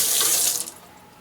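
A kitchen tap runs briefly to wet a knife while making salmon and mango musubi, a loud close gush of water that cuts off and fades within about a second, with no voices.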